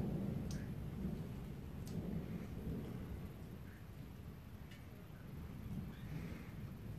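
Severe thunderstorm over South East Queensland, heard as a distant low rolling rumble of thunder beneath faint rain patter and occasional drips, fairly quiet throughout.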